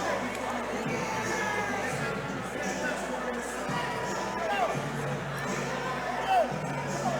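A crowd at the Cage Titans 60 MMA event cheers and shouts continuously, a steady dense roar of voices with scattered whistles and yells, with an announcer talking over it.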